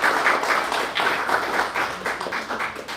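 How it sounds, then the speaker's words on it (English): Applause from a community forum audience in the Castro, a steady, moderately loud patter of many hands clapping that holds evenly for the whole stretch. "Round of applause, please, for Harry."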